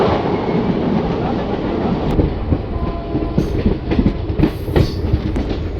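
Passenger train on the Patna to Puri route rolling along the rails, heard from inside with a steady low rumble and irregular clickety-clack of wheels over the joints, loud and continuous.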